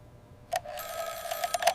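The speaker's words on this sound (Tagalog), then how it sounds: "This is an alarm clock." An alarm clock rings with a steady, bright metallic bell tone that follows a short initial clang and lasts most of the stretch, close and fairly loud.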